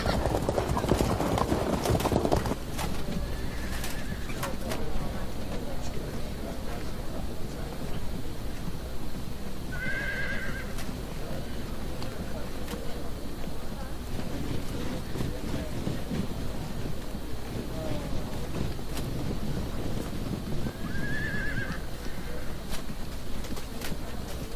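Cavalry horses in the Field of Glory 2 strategy game clop steadily throughout, hoofbeats rolling under a constant wind-like ambience, with a few short whinnies rising at intervals and a brief louder burst at the start.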